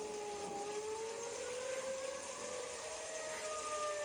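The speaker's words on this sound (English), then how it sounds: "Suddenly, a tornado warning is issued for your area, and the tornado sirens sound." A distant tornado siren wails in long, slowly rising and falling tones over a steady roar of background noise, fairly faint and continuous.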